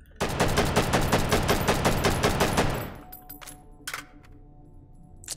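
Loud, rapid burst of unsuppressed automatic gunfire in the VR shooter Hot Dogs, Horseshoes & Hand Grenades, about three seconds of dense repeated shots, then it stops and a few faint clicks and handling sounds follow.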